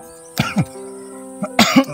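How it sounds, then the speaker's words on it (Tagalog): Two bursts of coughing from one person, each a pair of rough, throaty coughs at close range, separated by a short quiet pause. "may ubo tayo"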